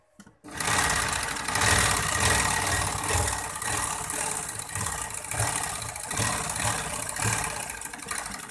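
A sewing machine runs continuously while stitching the side seam of a kurti, a steady mechanical whir with a fast rhythmic chatter that holds nearly unbroken for several seconds after a brief quiet start.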